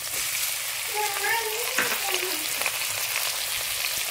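Onions frying in a pan, then tomatoes, for a Khandeshi kurdai bhaji, a steady close sizzle throughout with a brief faint voice partway through.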